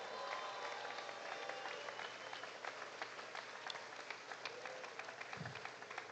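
Crowd applause at the Fancy Farm community event in Kentucky, a steady wash of many hands clapping that holds evenly throughout with no talk over it.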